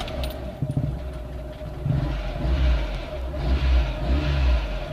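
The engine of a Lada VAZ-2109 hatchback, said to have developed a knock, runs with a steady low rumble and swells slightly in loudness, heard fairly close with no talk over it.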